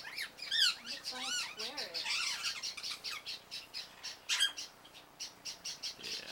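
Parrots squawk and call in a rapid series of harsh, close, fairly loud cries while they feed, with people talking over and between the calls.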